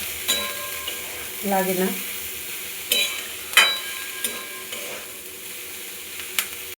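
Drumstick flowers sizzle as they are sautéed and stirred in a pan, with steady frying hiss broken by sharp utensil scrapes and clinks against the pan. Someone speaks briefly over it.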